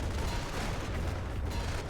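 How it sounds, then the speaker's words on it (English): An artillery barrage in the Company of Heroes strategy game: a steady mass of distant booming and rumbling impacts rolls continuously through the short stretch, fairly quiet and unbroken, with no voice over it. "Great barrage. Second barrage is much better than the first."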